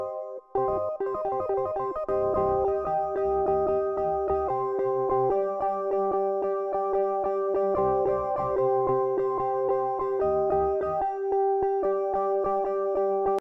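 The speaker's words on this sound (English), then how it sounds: "Layering in more bit crushed keys from Analog Lab V." Bit-crushed AC4 Reed Piano keys from Analog Lab V, run through RC20 with gritty aliasing, play sustained chords and shifting melodic lines, steady and upfront throughout with no voices.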